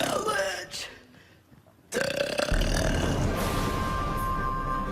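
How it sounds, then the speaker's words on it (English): A long, loud, rasping burp is shaped into words, following a short spoken lead-in with a brief quiet pause before it. "Can you say Paranormal Challenge in a burp?"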